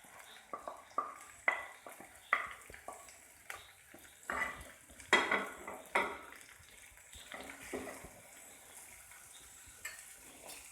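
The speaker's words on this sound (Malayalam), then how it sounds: "നമുക്കതിലേക്ക് സവാള, പച്ചമുളകും ചേർത്ത് കൊടുക്കാം" Onion and green chili stirred in hot sunflower oil in a pan for liver fry, with repeated scraping and clinking spoon strokes over a faint sizzle, close and irregular, no talk.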